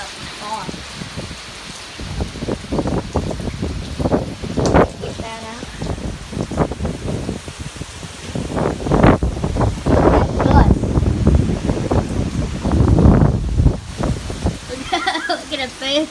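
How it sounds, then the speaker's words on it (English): Hurricane Dorian's wind and rain in South Carolina near the eye, gusting in loud bursts that batter the microphone while rain blows in, with a person shouting and talking over the storm. "The wind! Water blowing straight my way."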